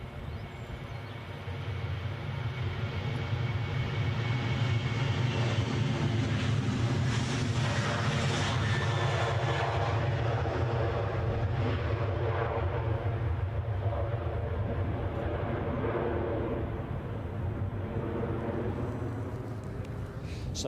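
Runway 24 at Edinburgh, where a German Airways jet in special chocolate livery lines up. A continuous, moderately distant engine rumble and hiss swell in the middle and then ease slightly, with no talking and some wind in the background.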